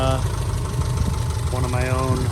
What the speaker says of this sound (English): the smell of the exhaust and just a Japanese car smell and that sound of that revving